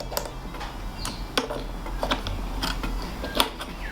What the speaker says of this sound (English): So the first thing you need to do is you need to just loosen these 3 bolts